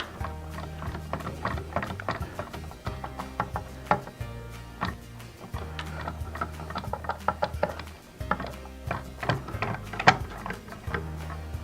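Screws are driven back by hand with a screwdriver into the plastic lid of a Moulinex Cookeo pressure cooker, giving close, irregular ratcheting clicks and small knocks with brief pauses between turns.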